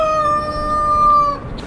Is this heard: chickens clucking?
yes